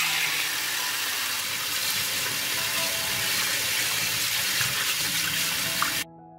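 Grapes being washed under a running kitchen tap, a steady broadband rush of water splashing onto fruit in a sink, close and continuous, stopping abruptly near the end.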